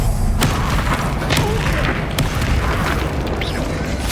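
Confringo spell blasts in the Hogwarts Legacy video game, a steady loud stream of booming bursts and thuds over continuous rumbling battle noise, with a few sharper pops standing out.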